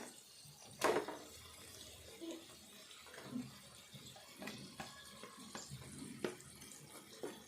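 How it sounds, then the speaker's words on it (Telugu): Chicken is washed clean under running water for a ridge gourd chicken curry, with quiet splashing, trickling and a few sharper splashes and knocks close by. "చికెన్ వేసుకుందాము శుభ్రంగా కడిగి తీసుకుందాం చికెన్"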